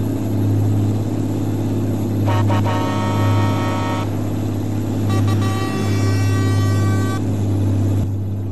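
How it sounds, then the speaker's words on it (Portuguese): Two long blasts of a deep, multi-tone truck air horn from a B-double truck carrying about 37 tonnes in Euro Truck Simulator 2 sound over a constant engine drone, each lasting about two seconds. "Qual buzina é a mais massa?"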